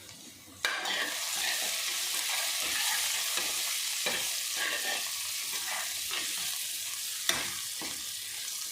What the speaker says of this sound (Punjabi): ਤੜਕਾ ਲਗਾਉਣਾ